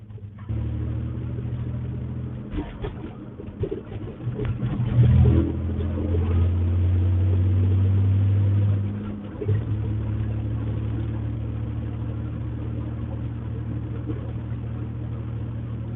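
A loud pickup truck engine drones steadily while driving to go perch fishing, with a low rumbling hum that swells briefly mid-drive and then settles back to a constant growl.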